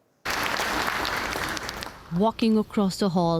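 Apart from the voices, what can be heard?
family and friends clapping and cheering at graduation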